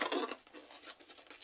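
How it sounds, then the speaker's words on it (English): Scissors snip and slice through a plastic package, a short burst of crisp cutting and rustling up close, fading into softer scraping. "Now, I do have scissors."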